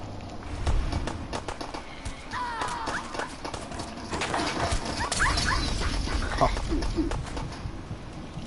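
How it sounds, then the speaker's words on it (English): An attack dog in a PS4 video game yelps and whimpers among rapid pattering footsteps and game noise, with short high whines rising over a busy, continuous background. "Attack dog."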